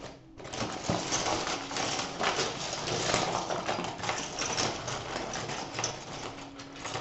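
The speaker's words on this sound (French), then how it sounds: "J'essaie de mélanger, hein. Désolée si ça fait du bruit." A deck of cards shuffled by hand, giving a dense, steady run of rapid papery riffling and clicking close by for several seconds, with no talking.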